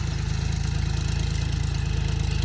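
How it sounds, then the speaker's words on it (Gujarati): A tractor engine drives a plough across a farm field, its steady low chugging drone loud and close, with an even rhythmic pulse throughout and no voices. "જો તમે જુઓ તો ટ્રેક્ટર બગડાટથી બોલાવતું આવે"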